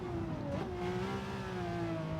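A car engine drops in pitch as the driver brakes for a corner during a Gran Turismo 7 Super Licence one-lap test, a loud, steady whine that dips, then settles into a lower drone.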